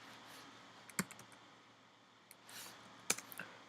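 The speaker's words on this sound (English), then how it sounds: "let's type JSON viewer" Sparse clicks on a computer keyboard, a few scattered sharp taps with pauses between them, close and quiet.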